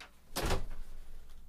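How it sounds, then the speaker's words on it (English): An indoor door is pushed shut in a classroom with a single soft thump and brief rattle, moderately close, followed by quiet room tone. "Let me just close that door."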